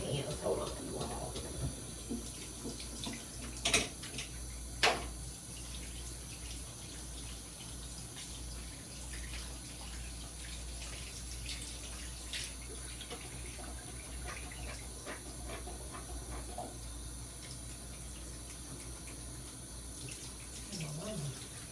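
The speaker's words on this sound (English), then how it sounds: "I want to wash my hands." Tap water running into a sink during handwashing, a soft continuous rush with a few clatters near the start and speech over it early on.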